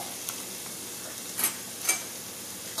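Onions fry over high heat in a pan, giving a steady close sizzle with occasional louder spits and crackles as they are stirred.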